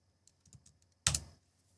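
A computer keyboard is typed on quietly, with a few soft scattered keystrokes followed by a short, louder burst of rapid key presses, with no talking.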